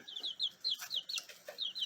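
Soft, repeated clucks from a pullet, short chirpy calls coming in quick bursts close by, with small rustles between them.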